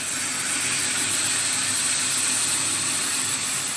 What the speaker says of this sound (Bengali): মতো কিছুটা জল দিয়ে দেব